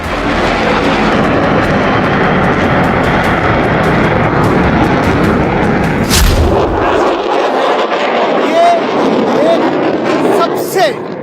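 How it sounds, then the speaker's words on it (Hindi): An F-35A Lightning II fifth-generation fighter jet at the Aero India air show makes a loud, continuous roar that sweeps overhead, then thins out in the last few seconds as the aircraft passes. "दुनिया का सबसे ज्यादा एडवांस्ड 5th जनरेशन का फाइटर जेट, जो पहली बार एरो इंडिया में आया है।"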